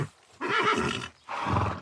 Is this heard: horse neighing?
yes